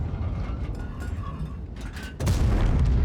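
A heavy artillery shell bursts with a deep, booming crash in World of Tanks, rising suddenly out of a steady rumble of battle noise and then rolling on loudly.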